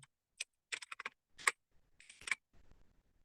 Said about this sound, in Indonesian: Kemudian kita ketikkan,